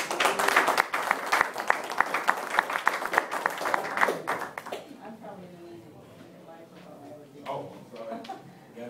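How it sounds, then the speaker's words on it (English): Audience applause at a panel event, dense clapping filling the first half and then fading out, with scattered claps and a voice speaking underneath as it dies away. "let's give her a round of applause"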